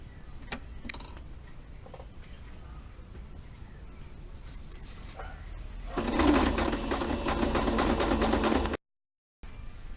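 A sewing machine stitches fabric for a romantic-style apron, running in one steady, fast, buzzing burst of about three seconds near the mic after quieter handling and faint clicks.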